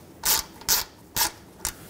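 Four quick ratcheting clicks in an even rhythm as a wrench starts a mounting nut on an exhaust hanger stud of a Dodge Grand Caravan, close and moderately quiet.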